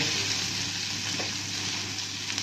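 Black homemade chutney masala frying in hot oil for a dry fish curry, a steady close sizzle holding at an even level throughout with no talk.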